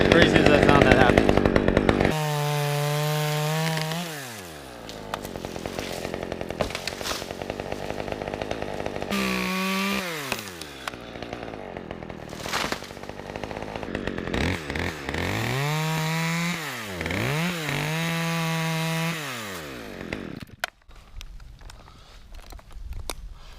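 A chainsaw revs and cuts into a tree top in several bursts, its pitch rising and falling with throttle changes, close by, with short idling gaps between cuts.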